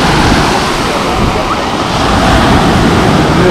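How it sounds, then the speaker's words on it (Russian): Sea surf washes steadily onto a beach at a crowded resort shore, a continuous broadband roar with wind rushing across the microphone and no distinct individual breaks. "А может быть, даже уже не очень маленькие волны."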